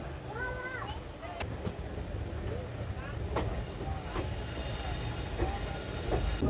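Delhi Fazilka Intercity Express running after leaving Kurukshetra, a steady clattering rumble with wheel clicks and faint squeals, heard from aboard at moderate level, with people talking in the background.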